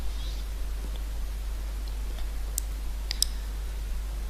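A computer mouse gives a few sharp, faint clicks, including a quick close pair, heard alone over a quiet steady hum.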